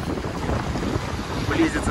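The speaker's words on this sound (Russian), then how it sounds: "Сейчас вот на море ветер." Steady blustery wind buffets the microphone by the Black Sea at Sochi, a constant broadband roar with faint surf beneath and no clear talking.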